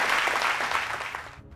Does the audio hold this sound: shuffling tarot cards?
no